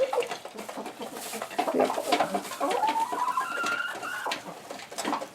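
Farm poultry at a feeding trough on a winter homestead, a busy flock cooing, clucking and calling near and far, with a brief spoken word.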